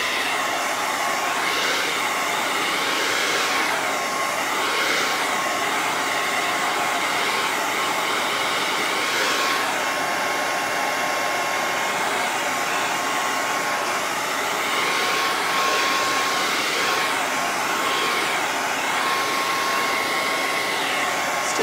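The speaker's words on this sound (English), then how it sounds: "All right, I'm going to blow dry this." Hair dryer blowing on painted stove top cover noodle board, a loud steady whooshing roar with slight swells as it moves, running continuously without a pause.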